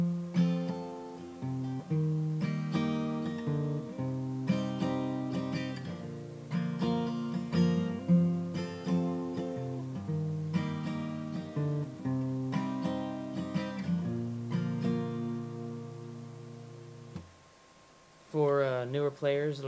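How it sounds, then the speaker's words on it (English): Acoustic guitar strumming chords with single plucked strings mixed in, a song's pattern: steady rhythmic strums and ringing picked notes, close and clear, ending with a brief pause and a voice starting to speak. "add those plucked strings to the rest of the strumming"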